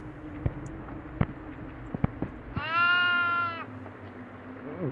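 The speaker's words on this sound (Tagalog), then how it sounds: "Ito, kambing. Ay, kambing dito." A goat bleats once, a close, wavering cry lasting about a second, after several sharp knocks and clicks in a quiet setting.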